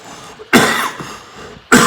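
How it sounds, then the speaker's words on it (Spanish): Two sharp, loud coughs ring out close to the microphone, about a second apart, each a short harsh burst against near silence. "primero para toser, perdón"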